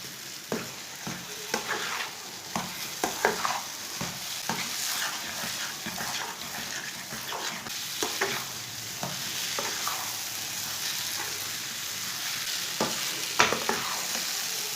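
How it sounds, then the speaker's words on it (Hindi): Egg and semolina halwa frying over medium heat while a spoon stirs it, a constant sizzle broken by repeated scraping strokes against the pan, close by. "इसे मीडियम आंच पर चम्मच चलाते हुए भून लेना।"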